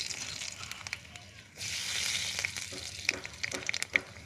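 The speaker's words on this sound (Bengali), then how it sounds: "কালো জিরে ফোড়ন দিয়ে দিলাম।" Nigella seeds tempering in hot white oil in a pan, a soft sizzle that swells suddenly about a third of the way in and then holds steady, with small crackles and a few sharp pops scattered through it.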